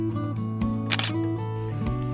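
A Nikon Zfc mirrorless camera fitted with a 50mm prime lens fires its shutter once, a crisp mechanical click near the middle of a short quiet stretch, then a steady high electronic tone follows.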